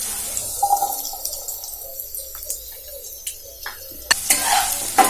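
Chopped potato drops into fried onion in a pan and is stirred, with close scraping and clinking of the spoon, a low sizzle underneath, and a sharp clatter followed by louder frying near the end, with no voices.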